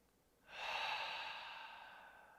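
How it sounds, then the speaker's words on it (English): A single slow breath during a half-moon yoga flow: a soft inhale through the nose swells into a longer, airy exhale through the mouth, close and quiet, fading gradually with no talk. "We'll take a breath in through the nose and out through the mouth together."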